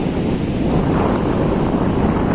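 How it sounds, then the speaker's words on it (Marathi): Sea waves roll onto the shore at Varsoli beach in Alibag as a loud, steady wash of surf, with wind buffeting the microphone throughout. "समुद्र किती लाटा नुसते येत आहेत किनाऱ्यावर समुद्राच्या लाटा"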